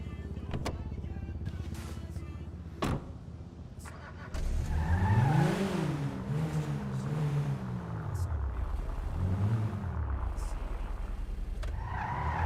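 Motor vehicle engine in a GTA roleplay game revving up and down in rising and falling sweeps, loud and close over a constant background hum, with a brief sharp tire squeal near the start.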